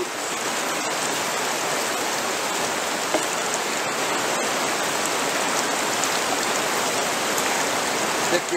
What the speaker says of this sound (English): Rinse it out really good. Rinse out your tube.